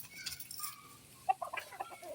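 Chickens cluck in short, soft bursts near a yard where rice is drying, a few brief calls spread across a quiet moment.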